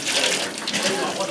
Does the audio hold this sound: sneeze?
no